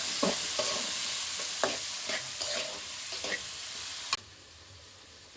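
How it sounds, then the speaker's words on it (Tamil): Eggplant and drumstick pieces sautéing in a pan for sambar, a soft continuous sizzle broken by repeated spoon scrapes and stirs, close and quiet with no talking, ending on a sharp knock. "இப்ப கத்திரிக்காய் முருங்கைக்காய் எல்லாம் நல்லா வதங்கிட்டு இருக்கு."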